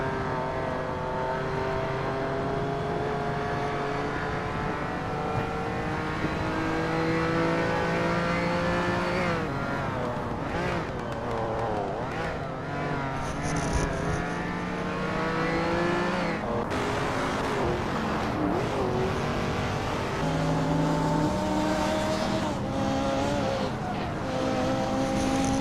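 Racing car engines roar steadily in the Hot Wheels video game, with sustained layered engine tones rising and shifting in pitch as cars accelerate, loud and continuous throughout.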